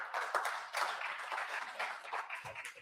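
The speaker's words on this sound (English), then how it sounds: "Massive big round of applause." Audience applause at a business conference in Namibia, a dense, fairly faint patter of many hands clapping continuously.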